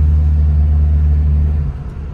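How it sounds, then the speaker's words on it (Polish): A Ford Fiesta with a CVT gearbox strains to pull away slowly at full throttle, its engine giving a loud, steady low drone from inside the car that drops away near the end. "Mam gaz w podłogę wciśnięty. I no, bardzo słabo rusza z miejsca."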